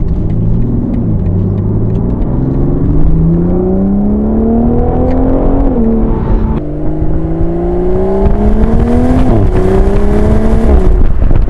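A 2025 BMW Z4 M40 engine revs up through the gears, its pitch climbing, dropping at each shift, then rising again, loud and close with a deep rumble.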